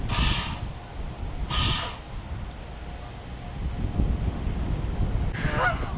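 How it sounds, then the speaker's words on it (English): Swans on the River Thames near Henley call in three short nasal bursts spaced across a few seconds, heard at moderate distance over steady outdoor ambience. "just at back of me now, we've got some swans, so we're going to have a quick look at them"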